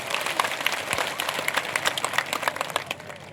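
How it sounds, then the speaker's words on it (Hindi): Crowd applause at a political rally of an OBC gathering in Katni, moderately faint clapping with distinct individual claps standing out over a continuous patter. "तो तालियों की गड़गड़ाहट से आश्वासन दिला दीजिए"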